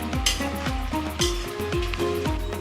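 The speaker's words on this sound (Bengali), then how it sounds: "নাড়িয়ে দিয়ে নামাই দিব আমি" Yogurt chicken curry is stirred in a pan, with a loud, close bubbling sizzle broken by rhythmic scraping strokes of the spoon, several in quick succession.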